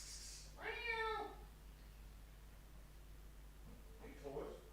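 A cat gives a faint meow after a short, soft high call, followed by a second quieter meow near the end over steady background hum, with a person's voice nearby.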